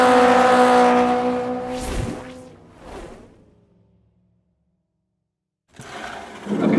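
A 2012 Porsche 911 Carrera S of the 991 generation roars loudly past, its engine note sweeping up and fading, then a second pass drops away into silence before engine noise swells back in at the end.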